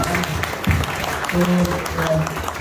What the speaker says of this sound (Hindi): ताली होनी चाहिए इस बात पे